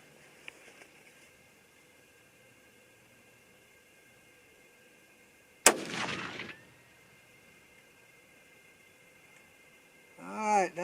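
A .243 Winchester rifle loaded with 49 grains of Ramshot Grand powder fires a single loud, sharp shot midway, its crack trailing into a short rumbling decay before near silence returns.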